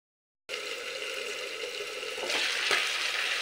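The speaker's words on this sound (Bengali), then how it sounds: "এবার আঁচটা একটু কম করে ঢাকা দিয়ে মাংসটা কষতে দেবো" Desi chicken frying in spice paste in a covered pan over low heat, with a splash of water from rinsing the spice bowl: a steady, close sizzle that starts abruptly after a brief silence and swells louder near the end.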